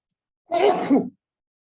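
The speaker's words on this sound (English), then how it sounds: "don't spread COVID in class. Go out of class and sneeze" One short, voiced sneeze breaks out in a classroom during a navigation lesson, close and fairly loud against an otherwise silent background.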